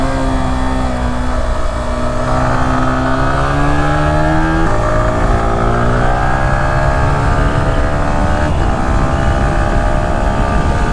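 Yamaha R15M V4 Carbon Fiber Edition motorcycle engine revving steadily while riding, loud and continuous with rising and falling harmonic pitch as the RPM climbs through the gears, no talking over it.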